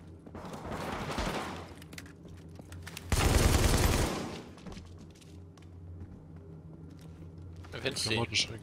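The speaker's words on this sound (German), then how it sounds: "Leichtes Maschinengewehr." A loud burst of rapid automatic gunfire from a light machine gun in the video game The Division erupts for about a second, with game sounds and muffled voices before and after.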